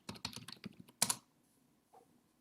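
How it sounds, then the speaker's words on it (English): A quick burst of keystrokes on a computer keyboard as a command is typed, a rapid run of close clicks ending with a harder key press, then a short quiet pause and one faint tap. "now I have to type in that command again"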